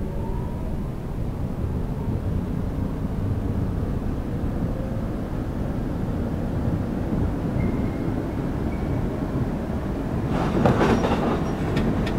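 A simulated commuter train runs on the Gyeongui–Jungang Line in the openBVE train simulator, with a steady, loud rolling rumble throughout and a burst of rail clatter near the end.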